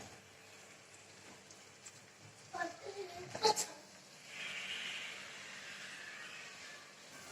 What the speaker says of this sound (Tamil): போட்டு இந்த பட்டரில் நல்லா ஃப்ரை பண்ணிக்கோங்க ஆனியனை.